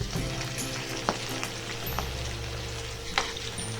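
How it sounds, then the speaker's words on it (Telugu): Dried broad bean pieces fry in peanut oil over a high flame, giving a steady close crackling sizzle with a few sharper pops and a low hum underneath. "ఎండిన చిక్కుడుకాయ ముక్కలను వేసుకుని హై ఫ్లేమ్లో వేగనివ్వాలి"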